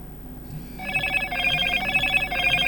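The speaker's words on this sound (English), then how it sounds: "Silence the ringer during an incoming call by lifting up the phone." A Motorola Moto G17 Power phone rings with an incoming call, sounding a bright, layered melodic ringtone close to the microphone that starts faintly, then swells and repeats steadily with no talking.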